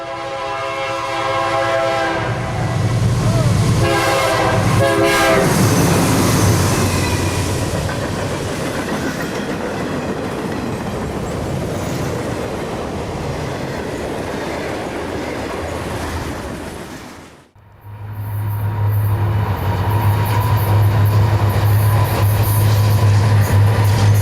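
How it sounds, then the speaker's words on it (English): A Conrail freight train rolls past led by a pair of new General Electric locomotives from Erie on their first run, a loud, close, sustained rumble with wheel clatter and a horn sounding near the start. "Powering the train is an impressive pair of new units from the General Electric factory in Erie, headed for the BNSF on their first run."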